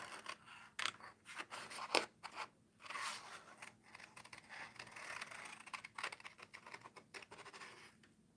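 Scissors fussy cut paper for a bullet journal page, a close, continuous run of crisp snips and scratchy rustles with uneven rhythm, no talking.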